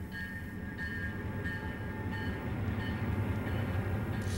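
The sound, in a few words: Gulf, Mobile and Ohio passenger train Ann Rutledge crossing Chicago River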